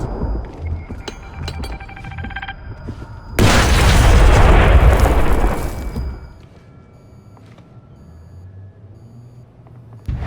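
A frag grenade goes off in the stealth shooter Splinter Cell Blacklist, a loud, dense blast lasting a few seconds that fades into a low rumble, with faint game clinks and beeps before it.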